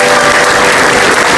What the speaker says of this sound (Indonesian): Tepuk tangan untuk Komeng Tato